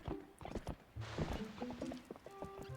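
Horse hooves clip-clop in a quick uneven rhythm in Zelda: Twilight Princess, game footsteps and effects layered with bright musical tones.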